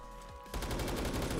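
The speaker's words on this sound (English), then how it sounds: "Ooh, man, that FAMAS is a new sound." Rapid automatic FAMAS rifle fire from the shooter game Phantom Forces starts abruptly after a brief quiet moment and rattles on in an even, fast burst to the end.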